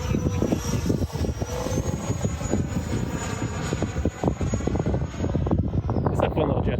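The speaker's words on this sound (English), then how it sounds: "It's a fun little jet to fly, man." A small E-flite Viper 70mm electric ducted-fan RC jet plane whines steadily overhead with a high, slowly shifting tone, while wind buffets the microphone and a voice talks intermittently.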